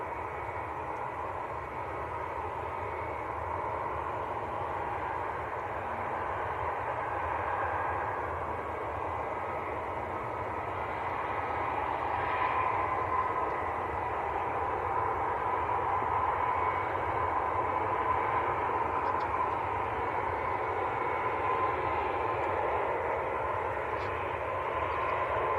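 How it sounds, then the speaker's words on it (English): A Eurowings airliner taxis across Manchester Airport toward runway 23 Left for departure, a faint, distant, steady engine rumble and whine that holds at an even level, with no talk. "So that is a Eurowings going across now for a 2-3 left departure"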